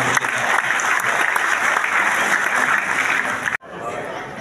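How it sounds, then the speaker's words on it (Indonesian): Dense, loud applause from an audience at a Golkar party regional meeting in Surabaya, steady for about three and a half seconds before cutting off abruptly, followed by quieter crowd noise. "Tepuk tangan untuk kita."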